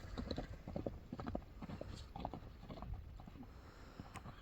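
A horse running on firm ground, quick rhythmic clip-clop of hooves with some rattling gear, moderately close and fairly quiet throughout, with no talking.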